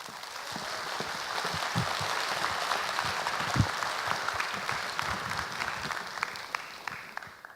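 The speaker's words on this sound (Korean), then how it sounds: "박수 부탁드리겠습니다." An audience at a Korean televised talk show on considerate traffic culture applauds a guest prosecutor being introduced, producing dense, sustained clapping from many hands that swells and gradually thins out.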